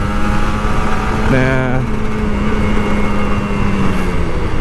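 A Kawasaki Ninja RR 150 two-stroke motorcycle ridden in Jakarta traffic after rain, a continuous loud engine drone with passing vehicle noise and a brief horn, while a rider speaks briefly over it.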